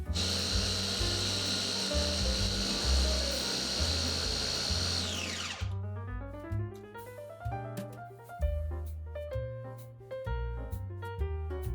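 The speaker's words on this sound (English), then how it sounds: "place the boiled cauliflower into a food processor and blend it until smooth" A food processor blends boiled cauliflower, a loud motor whir that runs steadily for several seconds, then winds down and gives way to irregular knocking and clattering as it slows and stops, close and with no talk.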